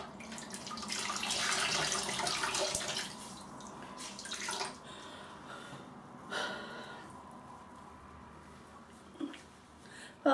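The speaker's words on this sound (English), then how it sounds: "Let's get some more cold water onto here." Water runs from a tap for a few seconds, then softer splashing and trickling with occasional small bumps nearby.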